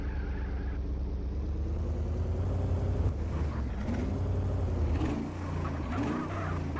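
A car engine drones steadily in the Grand Mobile video game, holding a continuous rumble with a couple of brief dips and swells as it drives, no voices over it.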